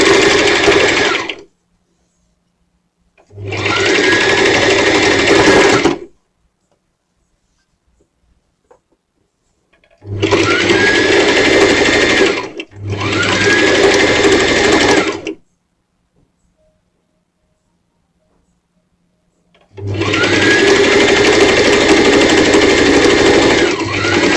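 A loud, close sewing machine stitches a half-inch skirt seam in four long steady runs with short silent breaks between them.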